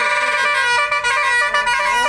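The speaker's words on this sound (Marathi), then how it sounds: "असा हॉर्न वाजला जातो म्हणजे कळतं की चला गाडी निघायची वेळ झालेली आहे गावची" A bus horn blares in one long sustained honk, loud and close, with a couple of brief dips, signalling departure on a village route.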